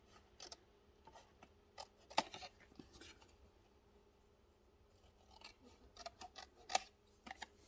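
Scissors snip a shape out of paper for a junk journal, with sparse quiet cuts and small crisp clicks spread out in time, close and alone.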